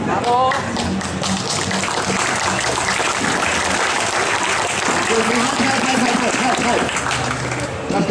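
A street-performance crowd at an outdoor festival in Linz claps, giving dense, sustained applause that stays loud and close for the whole stretch, with voices mixed in.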